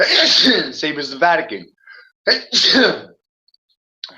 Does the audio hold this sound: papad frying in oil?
no